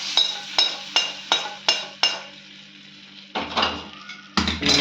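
Sautéed ingredients for curd kuzhambu are scraped out of a metal pan into a pot, producing a series of sharp, evenly spaced metallic taps and clinks, followed by a few louder scraping clatters.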